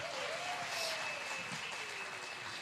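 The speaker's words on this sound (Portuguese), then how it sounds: "Vamos aplaudir o Senhor por todas essas conexões presentes" Quiet clapping fills a church service, a soft continuous patter from the congregation heard at some distance, with a faint tone running underneath.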